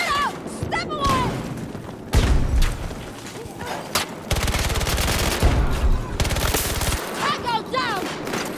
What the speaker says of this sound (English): Grenade out! Step away!